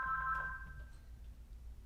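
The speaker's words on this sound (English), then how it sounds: "So they hear the phone ringing." A telephone rings with a short electronic tone burst at the start that quickly fades, leaving a faint, quiet background.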